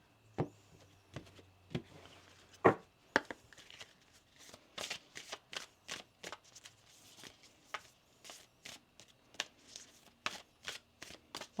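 Tarot cards being shuffled by hand, a quiet, close series of crisp riffling snaps and taps at an uneven rhythm, with a few short pauses and no talk.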